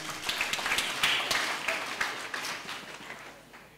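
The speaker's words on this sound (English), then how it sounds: "Our clapping, please." Audience applause at a graduation convocation in Hombolo, a dense, steady wash of many hands clapping with no voices, easing slightly toward the end.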